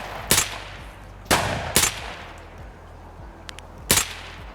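Gunshots in the shooter game Escape From Tarkov: four loud, sharp reports fire at separate moments, two of them close doubles, each with a short echoing tail, and a few faint clicks fall between them.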